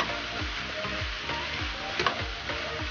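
Nasi goreng with meat stirred and fried in a pan: continuous sizzle broken by a steady rhythm of spatula scrapes and clatters, close and fairly loud, no talking.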